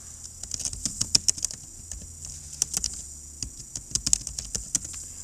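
Password being typed on a computer keyboard, a close, irregular run of crisp key taps with brief pauses between clusters, steady throughout and with no voices.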